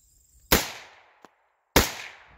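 Two sharp, loud shots from a Diamondback AR-15 rifle in 5.56 NATO, about a second apart, each with a long ringing echo trailing off, and a tiny click between them.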